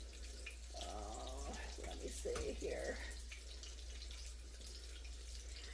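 A kitchen faucet runs steadily, filling water for boiling noodles, a continuous soft hiss beneath a person speaking briefly over a low hum.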